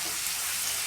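Tomatoes with a little salt fry in a pan for chicken varuval, giving a steady, loud, hissing sizzle that stays even for the short stretch.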